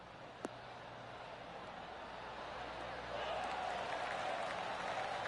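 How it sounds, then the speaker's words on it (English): Crowd at a golf course in the video game PGA 2K23 gives a polite golf clap, a soft steady patter of applause that swells slightly partway through, with a single sharp click early on. "Oh, golf clap."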